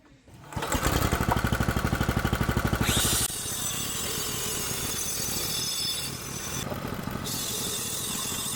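A homemade rideable remote-control go-kart engine fires up with a loud, rapidly pulsing burst for a few seconds, then drops into a steady, continuous idle drone that runs to the end.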